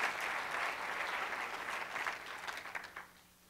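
A church congregation breaks into applause, a dense crowd of clapping that holds steady and then thins and fades toward the end, with no speech over it.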